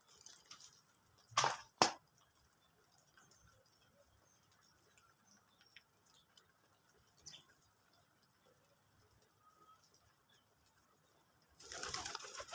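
Domestic red pigeons coo softly and faintly in a quiet yard, with two sharper louder calls early on and a burst of noise at the end.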